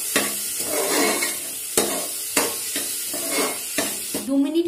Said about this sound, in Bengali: এবার একটু আমরা হালকা হাতে পুরো মশলাটাকে একসাথে ডালের সাথে মিশিয়ে দিচ্ছি।